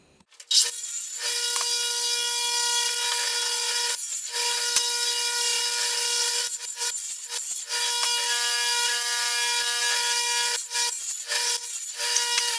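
Pine boards being cut into 15-inch sections with a power saw for a small shelf, a loud, steady high-pitched whine that runs almost continuously through several long cuts, broken by brief pauses between passes.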